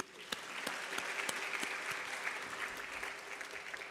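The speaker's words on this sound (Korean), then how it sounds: "박수 한번 치겠습니다" A church congregation claps together during a Sunday afternoon service, a soft but steady patter of many hands heard from some distance, with no one speaking.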